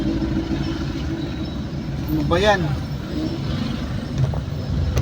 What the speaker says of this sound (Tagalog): Sobrang traffic.